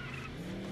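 Tires skid as a car drifts in the kart-style racing game Crash Wheels: a brief, steady screech with a droning engine tone underneath, loud and close throughout.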